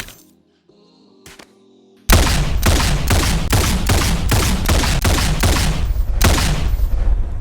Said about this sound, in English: Alright, let's listen to some gunshots.